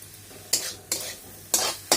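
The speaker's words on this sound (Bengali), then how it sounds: "এখন আমি একটু নেড়ে চেড়ে বেশ অল্প সময় ভেজে নিচ্ছি" Spiced kharkol leaf greens fry in a pan under a soft sizzle, with four distinct scraping stirs of a metal spoon sweeping through the mix at uneven intervals, close and clear.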